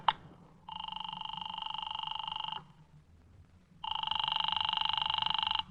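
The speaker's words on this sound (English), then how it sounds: "Oh, Walt, do you mind if I use your phone?" Old-time radio sound effect of a telephone ringing: two long electric bell rings, each roughly two seconds, separated by a pause, loud and close with a faint low hum beneath.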